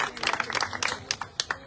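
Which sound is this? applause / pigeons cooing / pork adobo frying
applause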